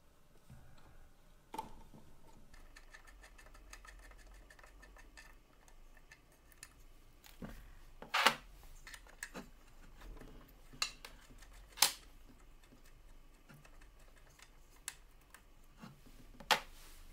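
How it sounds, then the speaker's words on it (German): A supplied open-end wrench loosens two fixing bolts on a Märklin Gauge 1 Wismar railbus model at 1:32 scale, giving sparse, faint metallic ticks and clicks with a few sharper taps amid quiet background. "kommt nun der mitgelieferte Gabelschlüssel zum Einsatz, um die beiden Fixierbolzen zu lösen"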